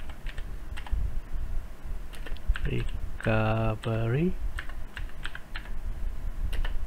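Rapid clicking of a computer keyboard while a fastboot command is typed to flash a Redmi 10X 5G phone, with light irregular keystrokes throughout and a brief spoken word in the middle.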